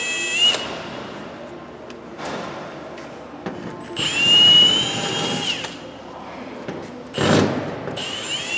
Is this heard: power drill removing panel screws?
yes